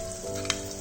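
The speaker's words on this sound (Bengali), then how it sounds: "মশলাটা ফ্রাই হচ্ছে, সাইড দিয়ে তেলটাও ছেড়ে গেছে" Masala paste for a bhetki fish korma fries in oil that has separated at the sides. A brief, close, steady sizzle carries a couple of faint stirring ticks.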